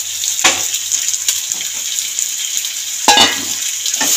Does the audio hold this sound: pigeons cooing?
no